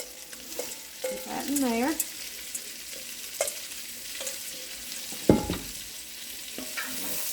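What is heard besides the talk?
green and yellow onions stirred and frying with tasso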